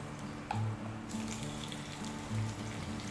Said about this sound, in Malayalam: ഇനി അതിലേക്ക് നമ്മൾ അരിഞ്ഞു വെച്ചിരിക്കുന്ന തക്കാളി കൂടെ ചേർത്ത് കൊടുക്കാം.